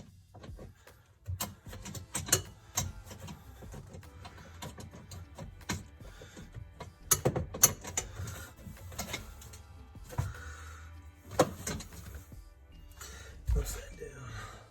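A ratchet tightens the mounting bolts of an Aces racing seat, giving irregular bursts of close metallic clicks and ticks with brief pauses between them, with faint low murmuring in places.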